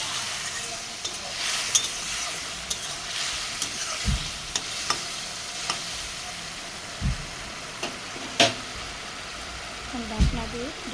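Spices and water stirred in a pan for a Bengali rohu fish curry, a soft steady scraping and sizzle with occasional sharper clinks of the spoon against the pan.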